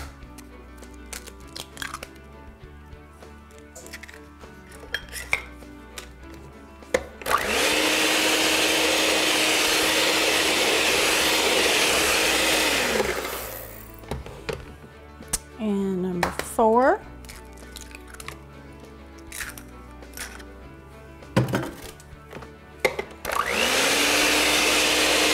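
An electric mixer whirs loudly through dough with butter in two steady bursts, one long and one short at the end, with quieter handling noises and talking between them.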